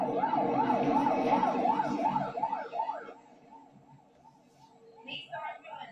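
An ambulance siren yelps in rapid, repeating rises and falls, loud at first, then fading and partly masked by background noise before a brief return.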